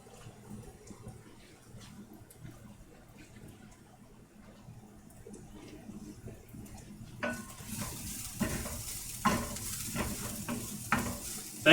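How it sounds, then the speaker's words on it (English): Garlic sizzles in a hot pan during soup preparation, a soft crackle that grows louder toward the end, broken by stirring scrapes and clinks of a utensil against the pan. "I'm going to cook the garlic now to make sure it all gets cooked"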